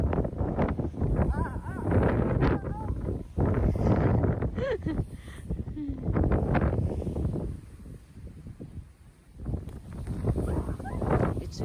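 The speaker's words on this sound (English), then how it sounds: "It's windy, guys." Strong wind gusts roar across a microphone outdoors while snow blows around, a steady buffeting rush that swells and dips, with a voice and a dog's whimpers mixed in.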